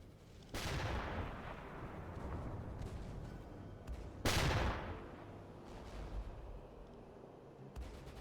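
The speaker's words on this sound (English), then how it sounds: "Who's shooting at us?" Two heavy booming gunshots with long rumbling decays ring out in the U-Boat video game, spaced a few seconds apart over a dense background of distant fire.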